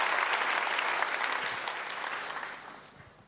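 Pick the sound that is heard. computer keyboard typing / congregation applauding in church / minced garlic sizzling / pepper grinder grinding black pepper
congregation applauding in church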